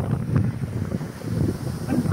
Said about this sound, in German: Jetzt geht der Wind zu, jetzt wird es stark und kräftig energetisch.